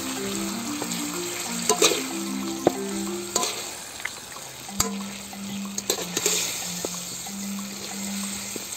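Pork chop meat frying in melted sugar in a pan, a steady bubbling sizzle with occasional sharp pops and stirring clicks, moderately loud and close, without speech.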